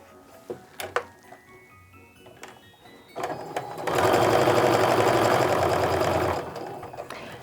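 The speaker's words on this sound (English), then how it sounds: "We're going to sew a 1/4 inch seam on both sides of my piece." A sewing machine stitches a quarter-inch seam on a fabric mug rug, first a few clicks and short bursts, then a loud continuous run of rapid needle chatter for a couple of seconds before easing off.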